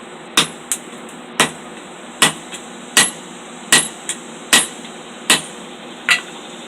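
Sharp metallic hammer strikes ring out at an uneven pace as hot steel is forged on a hardy cutoff for a knife blade, about a dozen blows, some paired with lighter taps, each with a bright clang.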